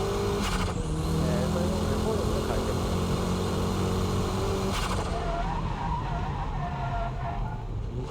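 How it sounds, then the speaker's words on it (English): Tires squeal and skid as a drifting car brakes into a corner on a wet road, a long loud screech over engine rumble from start to finish, with someone talking over it. "Braking drift is controlled by the braking power, your braking touch."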